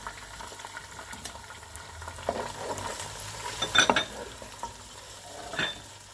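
Onions, tomatoes and ginger paste are stirred in a hot pan, a close sizzle broken by scraping spoon strokes and a few sharper clinks against the metal, peaking briefly in the middle.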